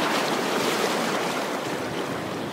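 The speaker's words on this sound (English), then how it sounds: "As you can see, the waters are still flowing." Ocean surf rolling onto the beach at North Topsail Island, North Carolina, after Hurricane Irene, a steady loud wash of breaking waves filling the whole stretch with no pauses.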